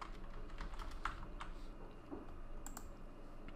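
Quick keyboard typing on a computer while entering a search for a WordPress migration plugin, a short run of light, close clicks over faint room hiss.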